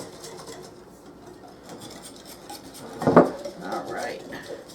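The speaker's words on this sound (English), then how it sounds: "I'm going to mix this up real good." A utensil mixes buttermilk pie filling in a bowl with soft scraping and stirring, ending in a louder clatter against the bowl about three seconds in, close and fairly quiet.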